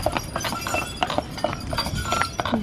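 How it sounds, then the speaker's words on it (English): Horses clip-clopping past on a street on Mackinac Island, a steady run of close hoof clacks with a faint metallic clink, over outdoor background noise. "Here comes some more horses the other way."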